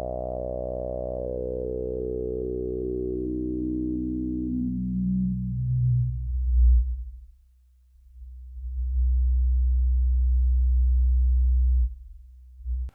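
A Roland Jupiter 6 analog synth plays a sustained harmonic tone while its filter, set to 50% resonance, sweeps downward in audible steps, then drops into a deep low hum before a brief pause and a second held bass tone.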